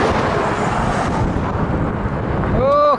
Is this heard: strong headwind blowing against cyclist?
yes